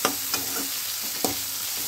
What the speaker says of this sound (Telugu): ఇప్పుడు 1 నిమ్మకాయ సైజ్ అంతా టమాటా పండును 50 గ్రామ్స్ ఉంటుందండి, సన్నగా కట్ చేసుకొని ఇలా వేయించుకోవాలి